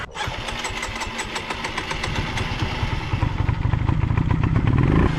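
A motorcycle used for wheelie stunt training fires up with a sharp catch, then settles into a close, loud, clattering idle that swells into rougher revving toward the end.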